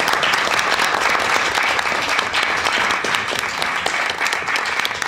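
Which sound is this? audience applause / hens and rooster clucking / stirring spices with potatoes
audience applause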